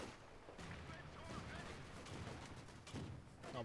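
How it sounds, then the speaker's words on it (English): Rapid bursts of Vickers machine gun fire crackle in the Company of Heroes 2 video game, faint and distant, running under a voice talking throughout. "The Vickers machine gun is annoying to deal with."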